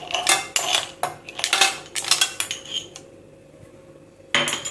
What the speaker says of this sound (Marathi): याच्यात बर्फाचे तुकडे टाकायचे आहेत